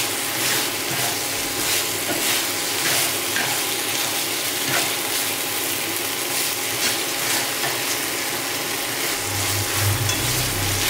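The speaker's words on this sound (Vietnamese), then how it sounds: "Sử dụng cái sạn á, mình đảo cho dễ nha." Vegan lemongrass ribs are stir-fried in a pan over medium heat, giving a steady sizzle throughout. A spatula scrapes and stirs them in rhythmic strokes, with heavier clatter near the end.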